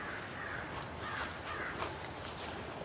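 Several crows cawing outdoors during a nature walk near a field, their harsh repeated calls overlapping at a moderate distance over a steady wash of wind or ambient noise.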